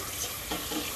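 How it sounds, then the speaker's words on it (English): Water runs steadily from a tap with a broad, hissy splash, fairly close and continuous for the whole moment, with a slight swell midway. "Run some cold water."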